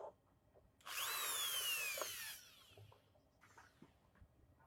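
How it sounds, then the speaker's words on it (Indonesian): A drill with a 12 mm bit bores a hole in PVC pipe for a handmade decorative lamp, one loud continuous whirring burst of about a second and a half, then winding down, close up with no talk. "Selanjutnya kita bor dengan ukuran mata bor 12 mm"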